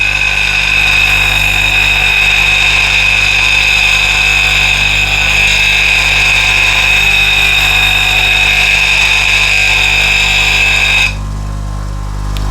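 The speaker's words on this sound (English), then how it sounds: "So let's go to 80 grit white wheel." An 80 grit white grinding wheel on a bench grinder sharpening a blade, heard as a loud, steady high-pitched whine with a constant motor hum, cutting off abruptly near the end.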